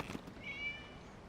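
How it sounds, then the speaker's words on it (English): A cat in the video game Genshin Impact gives a single short, faint meow over soft background ambience, with no talk. "It was just a cat."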